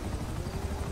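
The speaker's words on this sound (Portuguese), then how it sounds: "Onde você arrumou esse helicóptero?" Helicopter in the video game GTA V, a steady whirring rotor drone with a low pulsing thump, continuous and fairly close for a brief moment with no talk over it.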